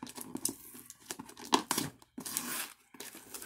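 Strong packing tape ripped off a Loot Crate subscription box, a series of loud close tearing and crinkling pulls with brief pauses between them.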